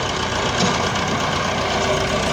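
A tractor engine idles loudly and steadily, a continuous rumbling drone without pauses.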